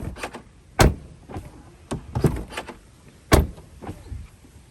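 A heavy Tesla car door thumps shut with a few sharp impacts and clunks spread over several seconds, close and fairly loud, with softer rattles and mechanical shifting sounds between them and no voices.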